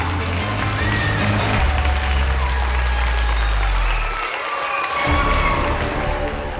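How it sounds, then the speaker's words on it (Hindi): Dense applause from an audience, loud and sustained, with a low musical drone underneath that drops out briefly before returning. "तालियों के साथ स्वागत करते हैं"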